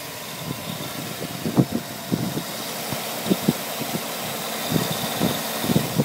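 A 2007 GMC Sierra extended-cab pickup engine idles steadily nearby, a low, even rumble with small irregular thumps and a faint mechanical whine, with no talking.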